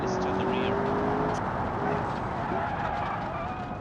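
All-wheel-drive Italian-style supercar in the car design game Automation, its engine droning loudly while the tyres skid and squeal through a slide, with a voice talking over it.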